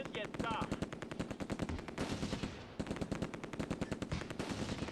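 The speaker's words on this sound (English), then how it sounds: "We are drawing some 30 cal fire" Sustained bursts of .30 cal machine gun fire in the war video game Close Combat II, rapid loud rhythmic shots running almost continuously, with a brief pause midway.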